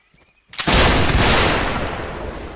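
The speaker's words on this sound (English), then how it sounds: "Oh, now they're firing." A massed musket volley rings out in the North and South online battle game, a sudden loud crash of many shots at once that rolls on and slowly fades into echoing rumble after a brief quiet start.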